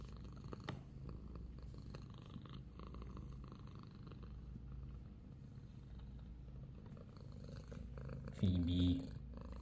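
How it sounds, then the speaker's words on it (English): A house cat purring loudly, a low continuous rumbling drone held steady for several seconds, close but soft, with a brief louder rustle or thump near the end. "She's purring really loudly today."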